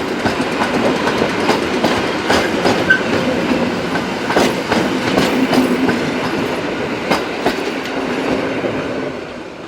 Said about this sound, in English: Ambling along towards the station is ET 221150, another Wrocław-based locomotive